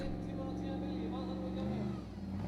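Ingvar Jóhannesson's formula offroad car, the Viking, runs with a steady engine drone on a steep hill track at an Icelandic Formula Offroad round in Hafnarfjordur, heard under a commentator's voice.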